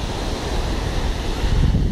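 Sea waves roll steadily onto a long beach in Vietnam, a continuous loud roar of surf mixed with gusty wind buffeting the microphone, with no voices.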